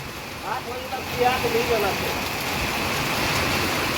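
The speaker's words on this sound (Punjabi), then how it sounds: "ਬਹੁਤ ਹੀ ਜ਼ਿਆਦਾ ਬੁਰਾ ਹਾਲ ਹੈ ਮੀਂਹ ਬਹੁਤ ਤੇਜ਼ ਹੋ ਗਿਆ" Heavy rain pours down steadily as a broad, constant hiss with no break, while people talk briefly over it early on.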